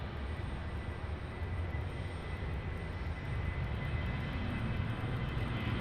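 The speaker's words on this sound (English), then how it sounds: "Is that 767 departing? Because it's either that or the MD-11" A UPS cargo jet, either a 767 or an MD-11, departs Raleigh-Durham International with a deep, continuous engine rumble that swells slightly toward the end, heard alone without talk.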